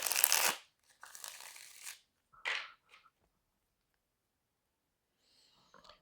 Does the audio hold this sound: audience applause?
no